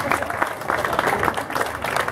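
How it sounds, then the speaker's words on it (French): Festival audience at a French chanson event applauding an organ-donation association, a bright crackling spread of clapping from a crowd, moderately loud, with some voices mixed in. "On peut les applaudir aussi"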